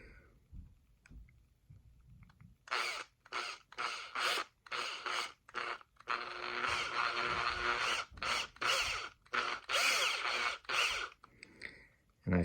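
A small power drill boring holes for 3mm front light bulbs in the plastic body of a Huina 583 RC loader, heard in repeated short bursts with brief pauses between them, close and fairly quiet.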